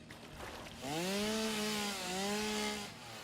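Chainsaw in the video game Satisfactory cutting away barnacles: a steady buzzing motor whine that rises and holds for about two seconds, dips briefly, then continues, fairly loud over a noisy background.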